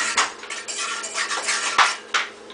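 A spoon scrapes and clatters around a pot, stirring seasonings and burnt curry powder for Jamaican curry goat, with several sharp metallic knocks over an irregular rhythm.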